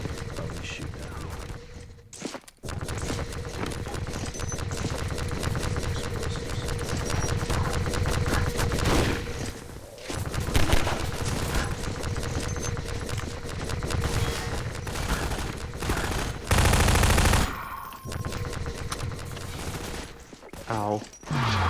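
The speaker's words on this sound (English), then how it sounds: "Oh, we shoot at you." Enemies fire bursts of gunfire in the Half-Life 2 Synergy game, with rapid shots and explosions loud and continuous through most of the stretch, while a player talks over the action.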